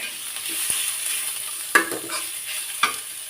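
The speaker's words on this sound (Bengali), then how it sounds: "জিরাটা একটু ভালো মতো ভাজি করে নিতে হবে" Garlic and cumin fry in oil in a pan while fish tail bhorta is prepared, giving a steady close hiss with a few sharp clinks of a spoon stirring against the pan.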